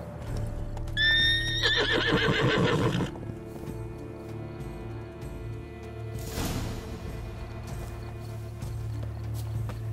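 A horse in The Witcher 3 video game gives a loud, wavering whinny, followed by a few hoof clip-clops and then a snort, over a low, steady background hum.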